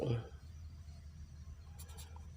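A blue pen writes numbers on paper, making a few faint, quick scratching strokes near the end over a quiet room hum, with a brief voice sound at the very start.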